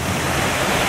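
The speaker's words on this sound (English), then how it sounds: "Nice little waterfall." A small waterfall pours into a trout creek, a steady, loud wash of rushing water filling the moment without pause or voices.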